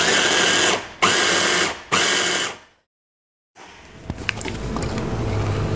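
Blender whirring through peanut chutney made with roasted sesame oil, vinegar and chili oil, in three loud bursts separated by short pauses, then silence, followed by quieter kitchen clatter and handling noise.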